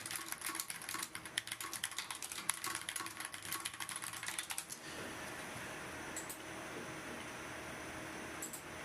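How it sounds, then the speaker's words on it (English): Rapid clicking keystrokes on a computer keyboard for about five seconds during a live stream, close and crisp, then giving way to a steady low room hum with a couple of isolated taps. "I'm going to type in the chat."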